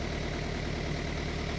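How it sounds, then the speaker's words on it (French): A car engine idling just after starting, with strong vibration from a broken engine mount, a steady low rumbling drone with a rough, buzzing shake, close and continuous with no talk. "quand je démarre, le moteur il vibre et même j'entends du bruit dans le tableau de bord"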